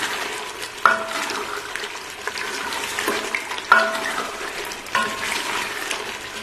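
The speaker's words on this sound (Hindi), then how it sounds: "माशाल्लाह से गोश्त भून लिए मैंने, तो 10 मिनट और भूनूंगी अच्छे से।" Mutton frying and being stirred in a pan for masala curry, a steady close sizzle with scraping stir strokes and sharp clinks of the spoon against the pot at intervals.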